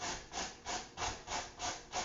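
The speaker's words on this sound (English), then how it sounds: "we're just going to go straight down through the cheese grater" A carrot scraped straight down a cheese grater on the larger holes, producing about seven rhythmic raspy strokes, close and fairly quiet, with no voices.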